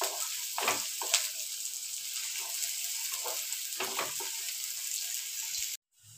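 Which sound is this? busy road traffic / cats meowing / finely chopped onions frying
finely chopped onions frying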